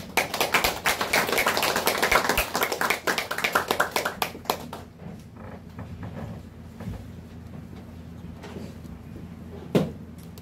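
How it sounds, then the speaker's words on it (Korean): An audience at a church political lecture claps to welcome a pastor to the stage, a dense round of close applause that thins out and stops about halfway, leaving quiet room tone and a single later knock. "우리 박수로 환영하여 모시겠습니다"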